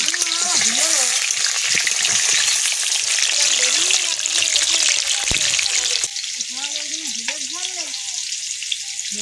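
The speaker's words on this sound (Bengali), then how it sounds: "তেল গরম হয়ে গেছে, আলুগুলো দিয়ে দেবো," Potatoes frying in hot oil, a loud, steady sizzle with occasional stirring scrapes, close up, while a person talks over it throughout.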